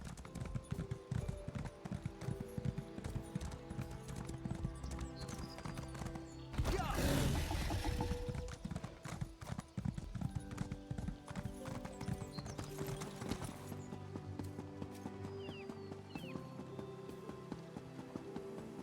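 Horse hooves clip-clopping in The Elder Scrolls Online, a steady rhythmic gallop running throughout with a louder rushing burst partway and faint game music underneath.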